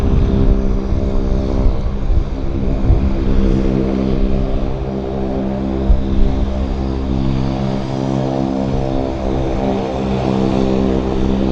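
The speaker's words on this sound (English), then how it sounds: "Oh, we've got an aircraft landing. Looks like a Beach 1900." A loud, steady turboprop engine drone from a Beech 1900 aircraft landing at Vancouver airport fills the whole stretch, close by and continuous, with no voices.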